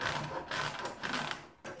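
Bergkäse mountain cheese rubbed against a kitchen grater in steady rasping strokes, a run of scratchy bursts close by with a short pause near the end.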